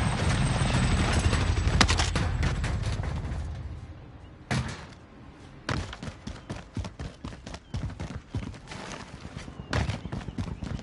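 An extraction helicopter arrives in Call of Duty Warzone, its rotor chop a rapid rhythmic thudding that fills the scene, broken by brief gaps and gunfire-like cracks.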